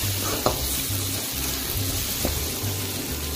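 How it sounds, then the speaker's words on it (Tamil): Onions and green chillies sautéing in hot oil for a Sri Lankan egg gravy, a steady close sizzle with occasional stirring scrapes and light clicks, continuous and fairly loud with no talking. "பச்சை மிளகாய் அது எல்லாத்தையுமே சேர்த்து வணக்கிக்கலாம். இந்த வெங்காயம் எல்லாம் நல்லா வணங்கினதும்"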